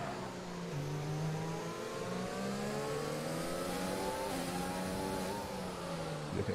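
Racing car engines in a racing game on the Hungary circuit, loud whining engine tones rising and falling through gear changes, several cars layered together, close and continuous, with no voices.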